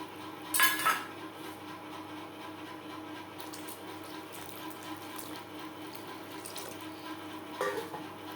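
Water being poured into a pan of Bengali coconut prawn curry gravy made with coconut paste and coconut milk: a brief splash and clatter, then quiet pan and utensil sounds, with a second small clink near the end.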